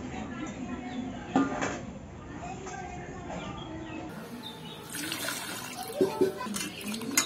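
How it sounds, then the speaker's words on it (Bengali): Cut raw mango pieces, skin on, being rinsed under running water, a steady trickle with splashing and handling clatter, with a voice talking over parts of it. "এবার এগুলো আমি ধুয়ে নেব ভালো করে"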